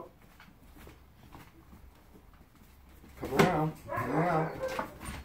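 A puppy in training gives a few whines and then short yelps and barks, loud and close after a quieter stretch with a person talking.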